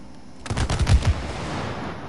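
A rapid burst of gunfire from the video game It Takes Two rattles off close and loud for about half a second, then falls to a quiet ambient hum.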